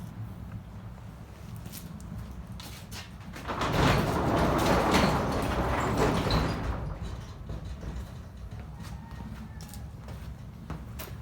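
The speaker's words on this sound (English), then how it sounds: "I'm gonna have to close this door." An indoor door sliding or swinging shut, a sustained rumbling scrape of about three seconds that rises from steady room noise and then fades back, close by with no talking.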